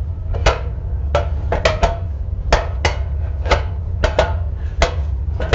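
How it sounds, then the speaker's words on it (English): AI-generated sound of potatoes dropping onto a metal table: a string of sharp, hard knocks and clatters landing at irregular intervals, close and dry over a low background hum. "Potatoes on a metal table."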